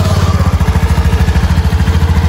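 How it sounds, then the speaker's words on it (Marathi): A motorcycle engine, just started outdoors on a sunny street, runs with a loud, close, rapid low chugging pulse at an even idle rhythm. "हरीश भाऊने केलेली आहे बाईक स्टार्ट."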